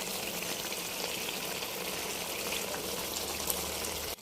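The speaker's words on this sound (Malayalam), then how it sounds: "ഈ സമയത്ത് നമുക്ക് അരിഞ്ഞു വെച്ചിരിക്കുന്ന തക്കാളി ഇതിലേക്ക് ചേർക്കാം" Chopped tomatoes added to beef roasting in ghee for a Kerala-style beef fry, with a dense, steady, loud sizzle and bubbling that runs continuously at close range before cutting off abruptly.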